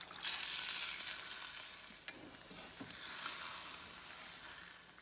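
Water poured over chicken cooking on high heat in a hot pan for a white karahi, giving a steady hissing sizzle that swells and eases, with a single sharp clink midway, close and fairly quiet.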